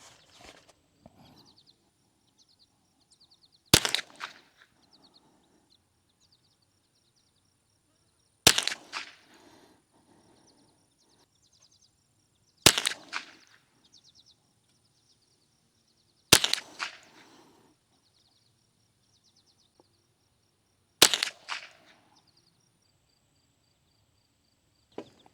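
Five sharp rifle shots from a Bear Creek BC-201 firing CCI Mini-Mag rounds at targets 50 yards downrange, spaced about four seconds apart with quiet pauses between them, each a crisp crack followed by a brief decay.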